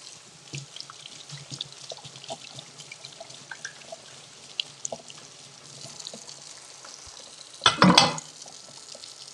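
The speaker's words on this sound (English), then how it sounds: "So we'll let that sear off on both sides." Salmon fillet sears skin side down in a clean pan with a soft, steady sizzle and light crackle, briefly swamped near the end by a louder rush of water.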